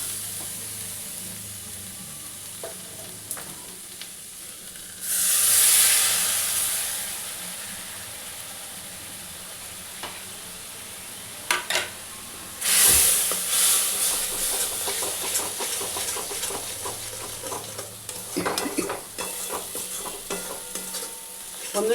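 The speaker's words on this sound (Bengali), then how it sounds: "এবার বাকি মশলাটা আমি এর মধ্যে সব দিয়ে দিচ্ছি। দিয়ে একটুখানি ধীরে জল দেবো।" Spices frying in a pan for a black chickpea ghugni, with a splash of water bursting into loud hissing steam twice, then a crackling sizzle with repeated stirring scrapes close by.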